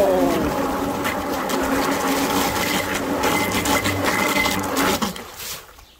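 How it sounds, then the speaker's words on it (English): A small Bixpy electric motor with a compact propeller runs steadily with a continuous whirring drone, holding even and fairly close before cutting off and fading away near the end. "So that's my Bixpy motor that I use."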